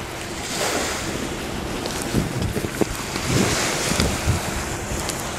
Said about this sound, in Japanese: ここはマーブルビーチで、もうすぐそこが海です。